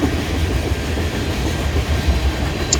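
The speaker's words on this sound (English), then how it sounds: "train turned out to be two ES44ACs running engine light, CN numbers 2867 and 2841" Two CN ES44AC locomotives running light without cars pass close by, giving a loud steady rumble with rhythmic wheel clatter on the rails.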